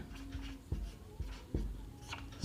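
A pen scratches on paper while someone writes an equation table by hand for a class 10 maths problem, with short strokes and taps spaced irregularly, close and fairly quiet.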